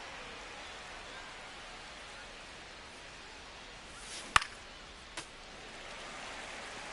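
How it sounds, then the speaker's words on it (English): Steady hiss of heavy rain falling on a ballpark during an MLB 25 Yankees video game, soft and even throughout, with a couple of brief sharp knocks breaking through near the end. "It feels like we might be headed towards a rain delay if the weather doesn't ease up"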